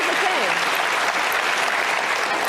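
A town hall crowd bursts into sustained, loud applause that holds evenly throughout, with a voice briefly calling out over the clapping near the start.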